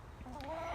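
Wet chickens give a short, close cluck, a brief rising call in a quiet yard setting.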